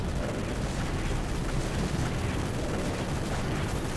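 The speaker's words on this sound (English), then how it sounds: "grenade launcher's good." Grenade launcher fire in the video game STALKER: Shadow of Chernobyl, a dense, continuous rumble of blasts and booming roar filling the whole stretch, loud and steady without a break.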